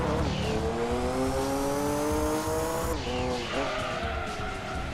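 A race car in Gran Turismo 2 skids through a handbrake turn, tires squealing loudly over a revving engine, with a brief break and a second squeal near the end.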